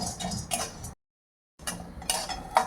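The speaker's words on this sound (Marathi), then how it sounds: "आपल्याला डांगराची बिया जे आहे तर ते भाजून घ्यायच्या." Pumpkin seeds being roasted and stirred in a dry pan for dry-fruit laddoos, giving light rattling clinks and ticks of seeds and spoon against metal, broken by a brief silent gap before the clatter resumes.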